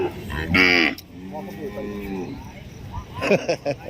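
Cattle moo at a cattle and buffalo market in Roi Et, Thailand. Several loud, drawn-out lows come close by, mixed with people talking and market noise.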